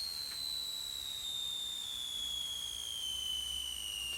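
A sampler pitch-sweep effect applied to a sound produces a thin, steady high tone that slowly glides downward over a hushed noise bed, faint and alone without any talk.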